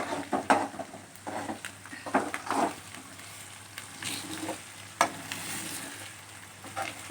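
Egg is stirred in a frying pan for egg rice, with a spatula scraping and tapping the pan in irregular strokes over a low, steady sizzle, heard close and with no voices.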